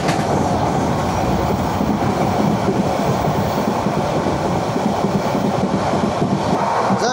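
A train rolls through the Bangladesh countryside with a loud, steady rumble and rhythmic wheel clatter on the rails, continuous and close throughout, with no voices.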